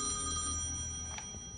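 An in-game telephone rings in the point-and-click adventure Thimbleweed Park, a steady electronic bell tone held over looped background music, with no voices.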